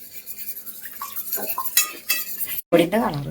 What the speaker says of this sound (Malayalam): കസ്റ്റേർഡ് പൗഡറും പാലും കൂടി മിക്സ് ചെയ്തപ്പോ